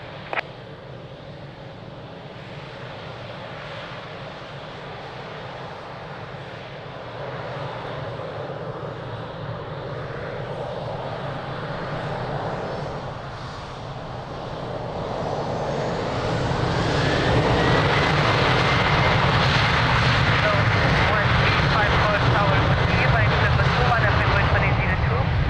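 An airliner's engines spool up on runway 02 at Lisbon Airport, a steady roar that swells sharply into a loud, building takeoff thrust over the last part, heard from a distance.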